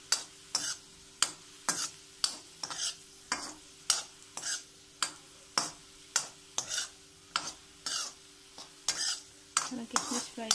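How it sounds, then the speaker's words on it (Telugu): Raisins and cashews frying in ghee over a medium flame for rava laddu, a soft sizzle under regular, sharp clinks of a spoon scraping and stirring the pan, close and steady. "కిస్మిస్ కాజు ఫ్రైయింగ్ ప్రాసెస్ అయిపోయింది"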